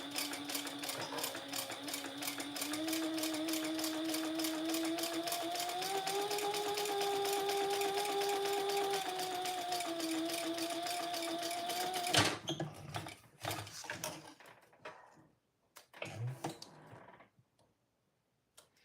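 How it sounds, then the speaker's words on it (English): Sewing machine stitching a little over a quarter inch from a folded fabric edge, a steady rapid ticking run for about twelve seconds, then stopping into scattered handling clicks and quiet. "So I am going to stitch just a little more than 1/4 inch from the folded edge"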